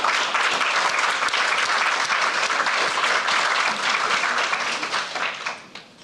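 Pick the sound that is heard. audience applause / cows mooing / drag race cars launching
audience applause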